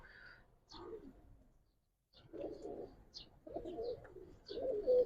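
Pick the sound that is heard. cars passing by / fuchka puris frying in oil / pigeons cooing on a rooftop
pigeons cooing on a rooftop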